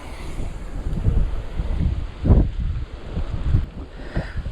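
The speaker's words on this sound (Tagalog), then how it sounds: "Paahon tapos lakas ng hangin." Gusty wind on a beach in Baler, Aurora buffets the microphone in uneven surges, with heavy low rumbling bursts that rise and fall.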